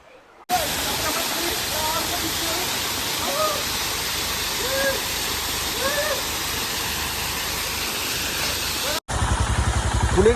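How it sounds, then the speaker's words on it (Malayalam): Cold stream water splashing and rushing at a forest bathing spot near Sholayar, a steady broadband roar filling the whole stretch, cut briefly near the end before resuming. "വെള്ളം ചാറുന്ന സൗണ്ടൊക്കെ അടിപൊളിയാണ്"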